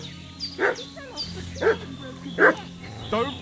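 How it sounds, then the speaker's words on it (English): Dog barking in Kingdom Come: Deliverance II, a few separate yips and barks spaced about a second apart at moderate distance over steady low game ambience. "What's that dog making such a fuss about?"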